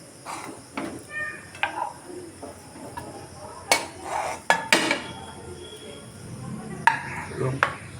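Mashed boiled potato being mixed on a plate for crispy potato chop: irregular clinks and scrapes of a utensil against the dish, near and fairly sharp, with quiet gaps between strokes.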